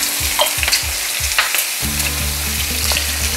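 Chopped garlic, onion and celery fry in a hot pan with a steady sizzle, while a utensil stirs and scrapes in several short strokes, close and clear with no talking.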